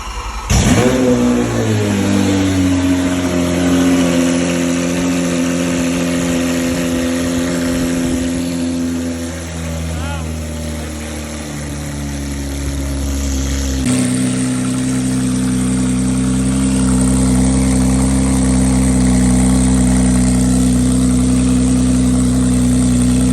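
A Lamborghini Aventador V12 engine with catless exhaust and muffler cranks, fires up and roars, then settles into a loud, steady rumble with a sharp step up in revs midway.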